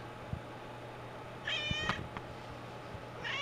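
A house cat meows twice, fairly close, the calls rising above a low steady hum and a few soft knocks, with a third meow starting at the very end.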